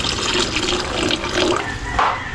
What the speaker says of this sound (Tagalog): Add pa tayo ng konting tubig.